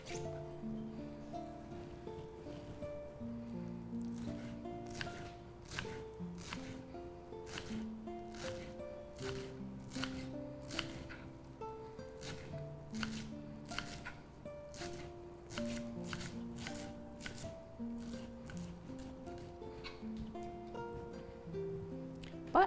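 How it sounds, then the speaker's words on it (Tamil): A knife chops washed coriander leaves finely on a cutting board for bottle gourd vadai, producing a long run of quick, regular taps over soft background music in a kitchen. "இப்போ இதை பொடியாக நறுக்கி நம்ம சுரக்காவிலேயே சேர்த்துக்கலாம்."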